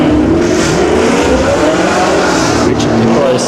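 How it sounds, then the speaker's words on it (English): A Holden VS Ute racing at a hill climb, its engine roaring loud and continuous with a rising whine as it accelerates along the course, heard from close by. "Richard Nicholas is on track at the moment in his Holden VS Ute."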